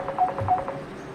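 Telephone dialing tones during an online meeting call, a quick series of short evenly spaced beeps that is fairly clear and has no talk over it.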